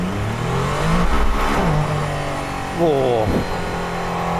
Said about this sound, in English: Let's feel the acceleration when I floor it.